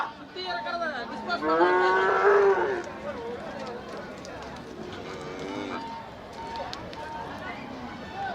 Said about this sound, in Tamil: இந்த மாடு இது ஒரு நாட்டு மாடு தான்